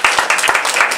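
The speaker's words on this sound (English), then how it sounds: "So give yourselves a round of applause." An audience at a copywriting training session claps loudly and close, a brief burst of dense overlapping applause.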